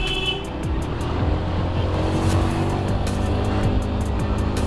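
An angkot minibus passes on a busy road amid continuous loud engine and tire rumble, recorded up close from a moving vehicle with steady traffic noise throughout.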